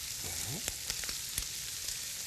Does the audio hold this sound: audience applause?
no